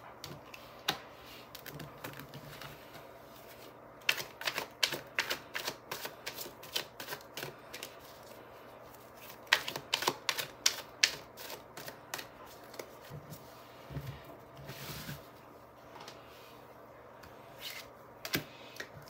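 Tarot cards shuffled and drawn by hand, with quick soft flicks and rustles in irregular bursts, close and quiet, with no talking.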